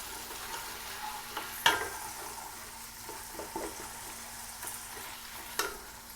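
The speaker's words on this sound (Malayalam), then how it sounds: "നമ്മൾ ഏകദേശം ഒരു 3 സ്പൂൺ തക്കാളി പേസ്റ്റാണ് ചേർത്തിട്ടുള്ളത്. നല്ലതുപോലെ ഒന്ന് വഴറ്റിയെടുക്കുക." Tomato paste being stirred and sautéed in oil in a pan, heard as a soft, steady sizzle with occasional scraping knocks of the spoon, fairly quiet and close.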